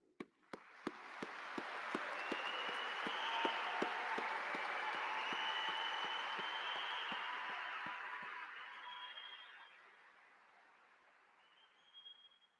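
A large crowd applauds at a state police academy graduation. The applause rises from a few scattered opening claps into dense, sustained clapping that carries on for several seconds and then fades, sounding moderately distant in a large hall.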